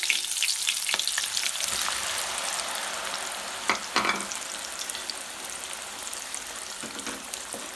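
Star fruit pickle with green chillies and jaggery cooks in a pan, giving a steady bright sizzle with a few stirring scrapes, near and moderately loud.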